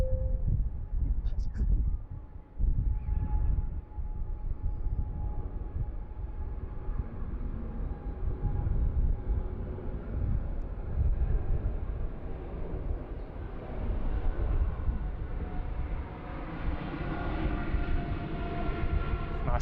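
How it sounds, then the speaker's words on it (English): An EVA Air Boeing 777-300ER taking off from a Bangkok airport runway, a broad continuous jet roar that builds and holds for the whole stretch, heard from a distance through wind noise with brief faint voices. "look at this bad boy, the EVA 777-300ER next to go here. Runway."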